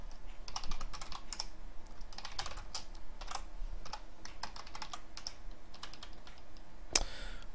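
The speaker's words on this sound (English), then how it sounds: "when you hit buttons on the keyboard, that data is being sent to the server" Fast, steady typing on a computer keyboard, close up: dense bursts of clicky keystrokes with brief pauses and a louder key press near the end.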